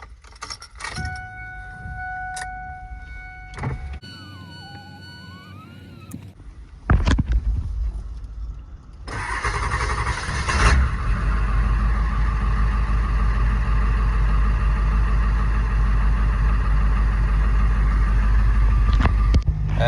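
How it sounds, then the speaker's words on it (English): Keys jangle and a chime sounds before a truck on 14-inch-wide wheels cranks over in a 35-degree cold start, its engine catching with a roar and then settling into a loud, steady rumbling idle close by. "So let's get this 35-degree cold start"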